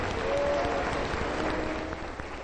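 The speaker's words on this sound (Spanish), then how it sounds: "Un aplauso para el Señor Jesús" Steady applause from a church congregation for a few seconds, moderately loud and continuous, with faint voices underneath.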